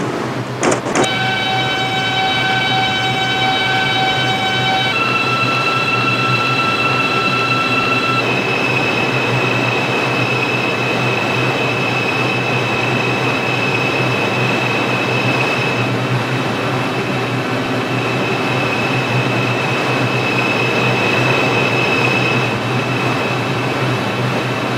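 A New York line 6 subway train in a mobile game pulls away with an electric motor whine that rises in steps, then settles into a steady rolling rumble and hum, loud and continuous.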